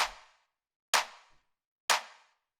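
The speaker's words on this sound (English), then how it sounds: "After that, we have this clap, which sounds like this." A full, big-sounding clap sample for minimal house music plays three times at a steady interval, each hit a sharp bright burst with a short decaying tail, separated by clean silence.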